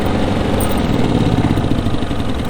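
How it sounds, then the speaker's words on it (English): An RV generator runs steadily while boondocking at an airshow, a constant close mechanical drone with a low engine hum and no break or change in level. "So I don't know if you can hear our generator right now."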